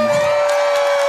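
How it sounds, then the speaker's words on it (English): Loud crowd cheering and whooping during a live UK radio broadcast, a dense, brief burst of audience noise with a steady tone running beneath it. "I've never heard applause like that at any of my gigs"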